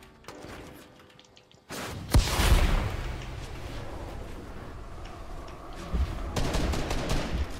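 Gunfire in a Fortnite match rings out in sharp bursts, starting after a quiet opening and continuing as rapid repeated shots with a loud crack near the start.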